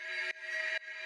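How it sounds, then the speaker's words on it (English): A techno synth pad has an LFO gently modulating the pitch of one oscillator, giving it a slight warping quality, heard as three long sustained chords, loud and alone. "kind of like a warping feeling"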